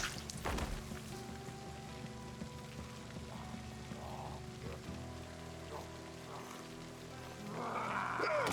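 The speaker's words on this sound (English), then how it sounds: "And now we've got rain." Steady rain hiss in the Project Zomboid video game, a soft continuous patter that builds slightly louder near the end, with quiet background game tones and no clear talking.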